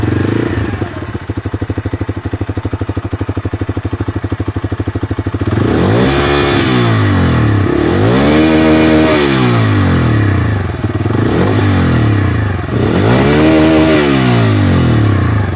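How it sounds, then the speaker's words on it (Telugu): A 2025 Bajaj Freedom 125 CNG motorcycle idles with a steady, close, loud exhaust putter, then is revved several times in rising and falling bursts before settling back. "బైక్ యొక్క ఎగ్జాస్ట్ సౌండ్ అయితే చాలా బాగుంది."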